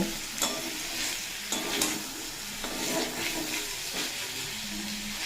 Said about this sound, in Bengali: আলু আগে ভেজে নিয়ে তারপর কুঁদরি এড করলাম দিয়ে অল্প নাড়াচাড়া করে নেব